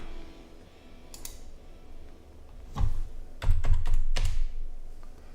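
Typing on a computer keyboard in a home recording setup, with scattered single clicks followed by a quicker burst of several keystrokes, close and fairly quiet against a low background hum.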